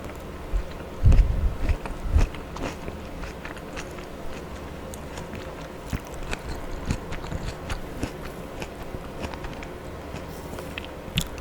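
Close, crisp bites into a Sumo orange followed by wet chewing, with a loud crunchy burst near the start and softer smacking, juicy mouth sounds continuing throughout in a quiet, intimate setting.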